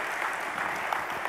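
A conference audience at a Windows Server tech session breaks into a brief, dense round of applause, many hands clapping together at steady volume.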